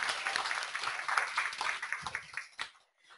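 Audience at a university changemakers talk in Minneapolis clapping for a speaker, a dense patter of applause that thins and fades out over the last second.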